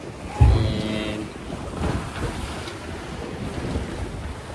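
Sailboat pounding into ocean waves under strong wind, with a heavy thump as the hull slams, then continuous roaring wind buffeting the microphone and rushing water surging around the boat.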